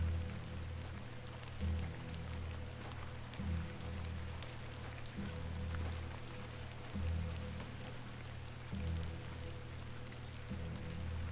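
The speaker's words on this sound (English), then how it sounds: "Let's get out of the rain." Steady rain falls in the point-and-click game The Excavation of Hob's Barrow, a soft continuous patter with low rumbling thuds recurring every couple of seconds, quiet and alone without talk.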